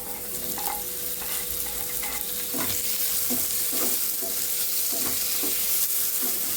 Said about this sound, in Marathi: टॅमॅटो नरम होईपर्यंत भाजायचे.